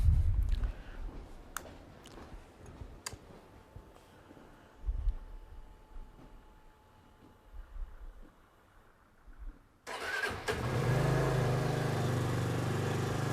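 A Benelli TRK 251 motorcycle engine starting from cold outdoors: several quiet minutes of faint clicks and shuffling, then the engine suddenly catches and settles into a steady, fairly loud idle.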